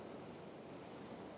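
Cold winter ocean waves break steadily at the shore where surfers ride them, a continuous broadband wash of surf mixed with wind noise, moderately faint and with no voices.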